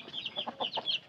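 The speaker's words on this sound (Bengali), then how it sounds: "এটা হলো আমাদের দেশি মোরগ।" A native country rooster clucks in a quick series of short, close, fairly loud notes, about five or six bursts in rapid succession with no talking.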